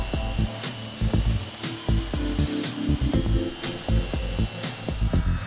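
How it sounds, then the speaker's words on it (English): A FEIN eccentric sander buzzes steadily while it takes excess PU joint material off a teak deck, with a busy mechanical whir and regular knocking pulses running through it. "the excess PU material is sanded down with the FEIN eccentric sander"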